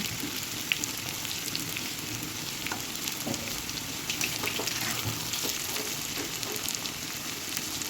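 Jackfruit pieces frying in oil in a pan, a continuous crackling sizzle with fine spattering pops, steady and close at moderate volume.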